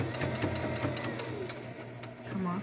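A sewing machine stitches fabric for a cable-tie reinforced face mask, its quick needle clatter running steadily and close for a couple of seconds before easing as the seam ends.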